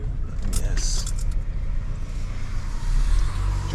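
Car rolling slowly along a road, its low engine rumble steady and close throughout, with brief jangling and clicks near the start and a swell in the low end toward the end.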